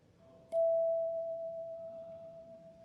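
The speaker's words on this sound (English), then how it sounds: "if you tap it very lightly and rapidly, it produces a vibrato in the sound" A handbell struck once, then tapped lightly and rapidly so its clear sustained tone wavers in a gentle vibrato, ringing steadily over low room hum and slowly fading.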